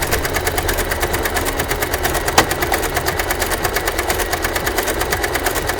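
A sewing machine fitted with a ruffler attachment runs steadily while pleating fabric, producing a fast, even mechanical clatter with regular rhythmic ticks and one sharp click partway through, close and alone.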